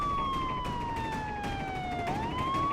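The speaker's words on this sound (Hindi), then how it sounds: "ये तो पुलिस की सायरन की आवाज।" A police siren wails in a steady, slowly falling tone that swoops back up near the end, fairly faint and distant with no one speaking.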